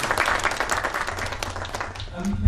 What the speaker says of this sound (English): Round of applause for Stéphane.